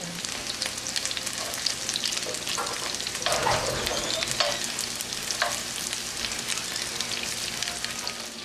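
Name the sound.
fish frying in a pan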